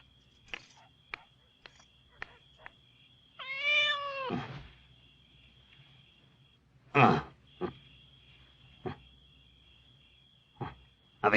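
A cat gives one drawn-out, wavering meow in a quiet room at home, followed by a sharper cry and scattered clicks and knocks, with a faint steady hum underneath.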